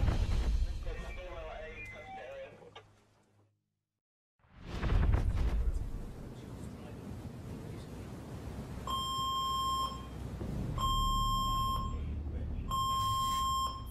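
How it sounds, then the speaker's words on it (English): Fire alarm aboard the Queen Mary 2 cruise ship sounding in three loud, steady electronic beep bursts over a busy background of footsteps and commotion, preceded by a brief silence. "We got also fire alarm activated, cabin 54."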